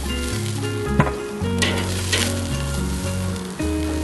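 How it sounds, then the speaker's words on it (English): An onion sizzling on a mesquite charcoal grill grate while the grill is being seasoned, a loud, steady close-up sizzle and crackle with a few brief scrapes and no speech. "You could take a regular onion, and traditionally it's a regular onion, and you season the grill. You cook it on here."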